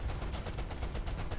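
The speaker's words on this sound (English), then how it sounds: "Dude over there just firing his cannon." Tank cannon fire in a World War II light tank game featuring the Harry Hopkins tank: rapid, rhythmic bursts of booming shots in steady succession, loud and continuous, with no talk over them.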